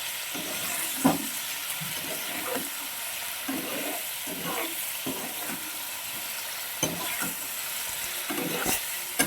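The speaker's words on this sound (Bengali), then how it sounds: "পনিরগুলো একটু ভেজে নিই" Paneer pieces frying in oil in a kadai make a continuous close sizzle, punctuated by repeated soft scraping and knocking as the pieces are stirred and turned, with no voices.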